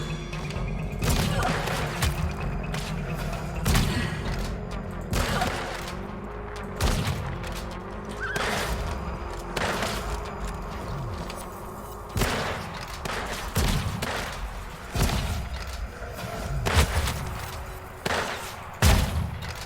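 Rapid gunfire in the Weird West video game, a string of loud sharp shots and thuds repeating in bursts across the whole stretch over a busy game background, with a voice speaking briefly.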